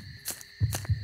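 Faint heartbeat thumps in the Hylophobia forest horror game, two or three low soft beats spaced about a quarter second apart beneath a steady high ambient hum.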